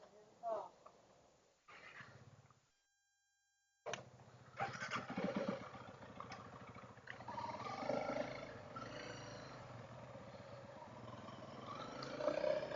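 A Honda CRF300L and a KTM 390 Adventure ride along the California Pacific coast, their engines droning steadily under wind rush after a brief pause, with a rider talking throughout.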